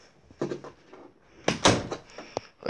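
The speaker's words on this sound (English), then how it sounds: "Gotta close the door." Someone pulls a house door shut indoors: a soft handling clunk, then a short pause and a louder, fuller thud as it closes, followed by faint rattling knocks nearby.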